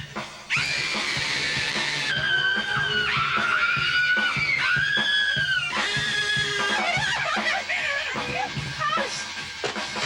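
People scream on a thrill ride: high, sustained, overlapping shrieks that rise and fall almost continuously, loud and close, broken by brief gaps and a few shorter yelps.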